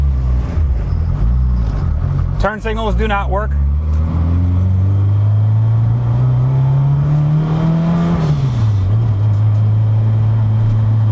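Modified Honda Civic with a grabby triple-disc clutch, its engine revving and pulling away loudly, pitch climbing steadily and then dropping at a gear change, with a voice speaking briefly over it.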